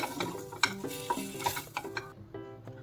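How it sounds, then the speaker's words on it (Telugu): Andhra-style prawn fry being stirred in a pan after curry leaves are added, with a spatula scraping and clinking against the metal over a soft sizzle, several close strokes in steady rhythm and no talking. "ఇప్పుడు ఒకసారి బాగా మిక్స్ చేసుకొని చివరిగా కొంచెం కరివేపాకు వేసుకొని కలుపుకొని"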